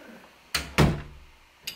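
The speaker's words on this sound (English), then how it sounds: "I'm closing the door first." A door is pushed shut indoors, giving two close thuds a moment apart and then a smaller knock, with no talk over them.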